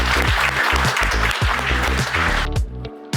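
Applause at a Brazilian jiu-jitsu belt ceremony, brief clapping from the group over loud rhythmic music, dropping away near the end.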